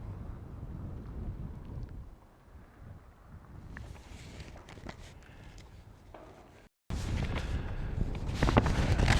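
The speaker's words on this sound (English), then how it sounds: "hopefully you can hear me over the wind" Strong wind buffets the microphone outdoors at the Berlin, Nevada ghost town near the old mill building: a continuous low, roaring rumble with gusty swells, a brief dropout, then louder, harsher gusts to the end.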